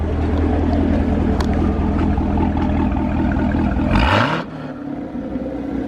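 Corvette C7 Z06 with Katech throttle body and GM Performance intake, exhaust valves open, rumbling loudly at a steady high idle, then one sharp blip that rises and cuts off, leaving a quieter idle.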